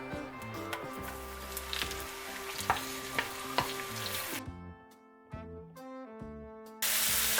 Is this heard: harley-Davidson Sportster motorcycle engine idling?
no